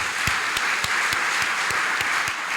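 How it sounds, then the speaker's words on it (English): Audience applause for scholars at a celebration event: a steady wash of crowd clapping overlaid by a regular, rhythmic beat of louder rhythmic claps, roughly three per second, close and loud throughout. "Give our scholars another round of applause."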